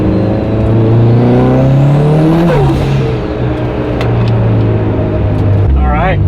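A Mitsubishi Evo 9 pulls hard in second gear on a cold, dry road, its loud engine note climbing steadily, dipping briefly partway through, then droning on close and strong.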